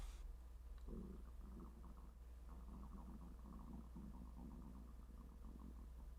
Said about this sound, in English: you're not hearing my stomach growl